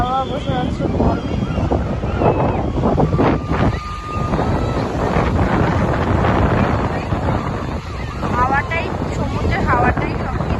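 Sea wind at Puri beach buffets the microphone in a loud, continuous rush, with surf and distant crowd voices mixed into the gusts throughout.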